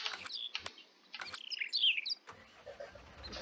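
Several birds chirp and tweet in rapid bursts of high, bright calls, some clustered together, heard on a farm map in Farming Simulator.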